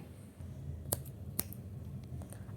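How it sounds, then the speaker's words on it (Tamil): Two crisp finger snaps, close and isolated, separated by about half a second over a quiet room hum, with no talking. "அப்படின்னு சொடக்கு போடுறான்."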